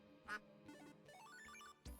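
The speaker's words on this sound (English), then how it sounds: "I just heard a duck." A duck quacks a few times in quick succession, a brief clear burst of nasal calls heard alone against quiet background hum.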